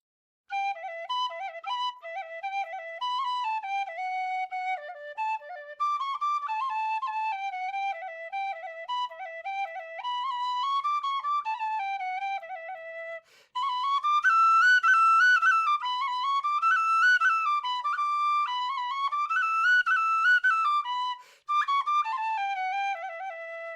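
A high D or Eb tin whistle with a fat mouthpiece plays a lively melody of bright, clear sustained notes up close, with one brief pause and a louder, higher passage in the second half.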